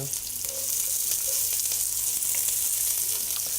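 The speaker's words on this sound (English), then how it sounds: "We're going to start with some onions first. Beautiful noise," Onions sizzle and crackle steadily in hot olive oil, a bright continuous hiss with small pops, close up and without talking.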